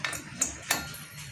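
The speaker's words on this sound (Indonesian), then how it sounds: "Tinggal palu." A hammer strikes a cross joint on a Suzuki Zebra Espass driveshaft, giving two or three sharp metallic taps at close range with short ringing decay, no speech.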